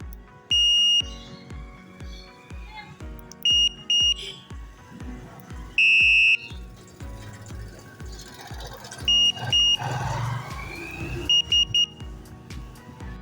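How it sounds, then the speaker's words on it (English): Electronic bicycle horn with selectable tones and an anti-theft lock alarm, sounding repeated loud, shrill beeping bursts and warbling tones that change pattern, over a steady rhythmic thumping background. "Press the middle button to hear the horn. Double press the middle button to change the horn sound."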